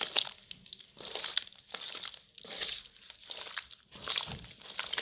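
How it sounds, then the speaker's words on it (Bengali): Ripe mangoes are mashed and mixed by hand with kasundi mustard sauce, producing wet, squelching and crinkling pulses in an irregular rhythm, close and moderately soft, with no talk. "আর দিব কাসুন্দি। এই আমগুলো ভালোভাবে মেখে নেব।"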